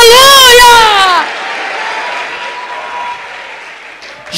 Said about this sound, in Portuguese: Misture essas palmas com glória a Deus e aleluia!